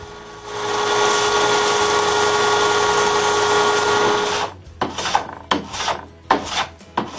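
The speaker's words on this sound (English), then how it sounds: "I sand them flush with the frame." Steady abrasive rasping of sanding wooden splines flush with a door frame runs continuously for several seconds, then breaks into short, irregular scraping strokes.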